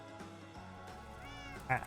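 A cat in the Minecraft video game gives a short meow near the end, over soft game background sounds and music, with no talking.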